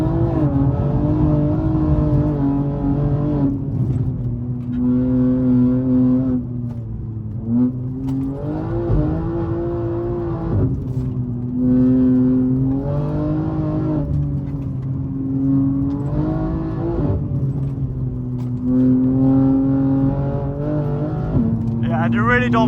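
Loud, steady drone of a BMW M3 engine driven hard on a rough, rocky Scottish Highlands road, pitch rising and falling with revs and gear changes throughout, a voice talking over it.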